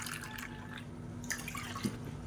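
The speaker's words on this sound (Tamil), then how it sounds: "இதில் பார்த்தீங்கன்னா மெஷரிங் கப்பில் 1/4 கப் அளவுக்கு தண்ணி சேர்த்துக்கலாம்." A quarter cup of water poured from a measuring cup into a kadai while cooking festival kolukattai, a soft, faint splashing trickle heard close by with light drips.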